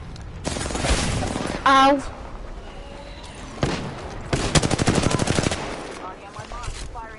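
Apex Legends gunfire rattles in loud automatic bursts, with a sharp burst early on and a longer rapid volley later. A voice briefly cries out, and game sounds fill the gaps between shots.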